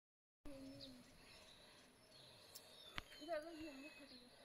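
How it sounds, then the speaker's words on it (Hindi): Birds call near an ancient mountain cave temple in Uttarakhand: a few faint, brief chirps and short warbles rise over a soft outdoor hiss, mostly toward the end. "पक्षी की आवाज़ अच्छी आती है।"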